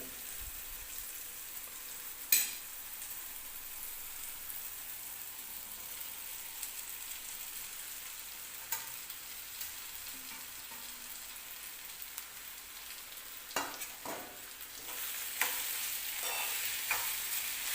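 Poha being stirred and mixed in a pan for aloo poha, a faint continuous low sizzle with occasional scraping clicks and soft spoon knocks, louder toward the end.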